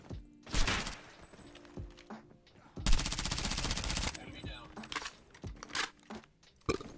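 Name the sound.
gunfire, from a video game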